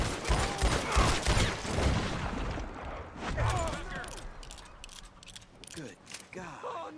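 Gunfire from shooting enemies in the video game Resident Evil 4 Remake: a dense run of sharp shots and impacts early on, then scattered bursts and mechanical clatter, with a voice talking over it.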